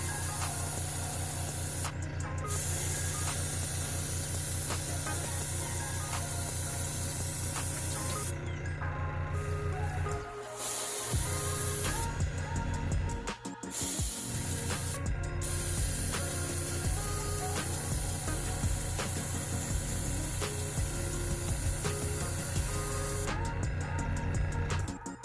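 An airbrush sprays paint onto a model horse in a continuous hiss with a low compressor hum, broken by several short pauses between bursts of spraying.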